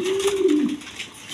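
Pigeons for sale in pairs at a market coo nearby, one drawn-out, throaty coo sliding slightly downward, clear and fairly loud against faint background noise.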